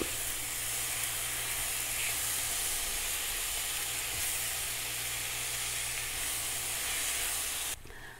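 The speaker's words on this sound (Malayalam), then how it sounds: "ഇനി അരിഞ്ഞു വെച്ചിരിക്കുന്ന ടൊമാറ്റോ കൂടെ ഇടാം ഇത് നല്ലപോലെ ഒന്നങ്ങ് വഴന്നാൽ മതി" Chopped tomatoes sauté in a pan for tomato chutney, giving a steady, close, even hiss and sizzle that holds nearly unchanged throughout, then drops off abruptly just before the end.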